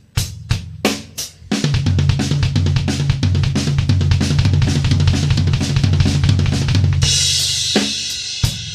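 A drum kit plays a triplet pattern in sixes, going right hand, left hand, kick, as a fast, even stream of hits over repeating low kick thumps. A few separate strokes come first, and a crash cymbal wash joins near the end.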